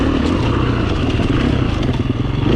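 Enduro motorcycle engine pulling in fourth gear with little torque on a track, a steady, loud, close-up drone with rough clatter running through the whole stretch.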